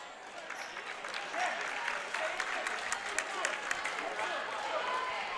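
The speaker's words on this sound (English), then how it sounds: "Spencer Miller gets a round of applause as he comes out" Steady applause from a crowd in a gym at a high school boys' basketball tournament game, sustained clapping with some cheering mixed in, moderately loud and continuous throughout.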